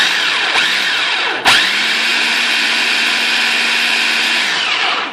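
A food processor pulses a bean burger mixture of mashed beans, whirring loudly and close. It stops briefly, then restarts into a steady high whine that runs for several seconds before spinning down.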